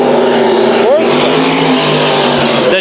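Race cars run a heat race on Bakersfield Speedway, their engines roaring loud and close with one rising rev early on, under a commentator's voice.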